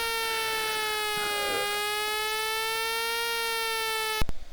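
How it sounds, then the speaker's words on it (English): Siren from the Commodore 64 game City Fighter: a steady synthesized tone with stacked harmonics that sweeps slightly up and down for several seconds, then cuts off abruptly with a few sharp clicks. "So we have to wait for this annoying siren."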